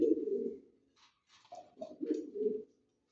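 A pet pigeon coos softly and close, a low throaty call followed by a short pause and then a few more rolling coos, with faint small clicks between.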